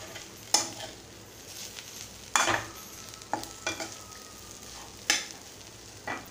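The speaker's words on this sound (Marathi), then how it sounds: "आता मी चिरून घेतलेली ही भाजी घालत आहे आणि असं आपण परतून घ्यायचं आहे" Chopped bharangi greens are stirred through ground masala in a pan, giving a low background sizzle broken by several sharp scraping stirs spaced a few seconds apart, close and moderately loud, with no talking.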